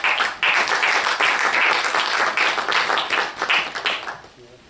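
A conference audience breaks into loud, dense applause that holds steady for several seconds and then fades out.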